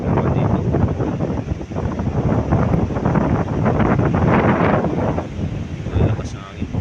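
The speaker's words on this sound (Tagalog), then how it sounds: "Lakas ng hangin." Strong typhoon wind batters the microphone with a loud, steady roar, and waves churn underneath, during Typhoon Kristine on the Philippine coast.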